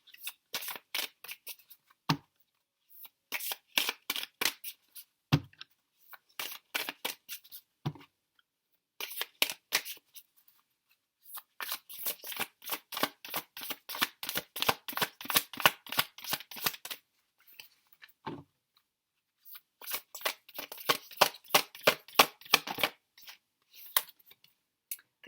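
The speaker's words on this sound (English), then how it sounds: "And let's get one more card here." Tarot cards shuffled and drawn up close, with rapid bursts of crisp riffling and flicking separated by short pauses and occasional single card snaps, quiet overall.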